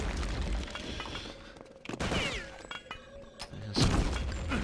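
Axis support fire in a Return to Castle Wolfenstein match: rapid bursts of gunfire and heavy thuds, with shattering impacts and a whistling streak, dense and fairly close amid the clatter of combat.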